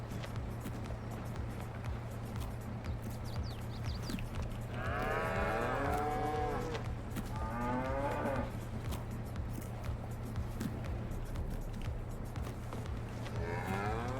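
Cows eating below in Farming Simulator 22, a wet, squelching chew heard over a steady low hum, with loud lowing moos breaking in several times.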